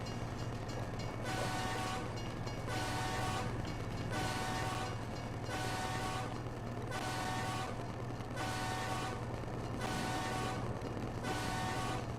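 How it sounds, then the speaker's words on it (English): A train passes in American Truck Simulator with a steady low rumble and repeated horn blasts, about eight evenly spaced toots sounding loud and near. "Oh, there's a train."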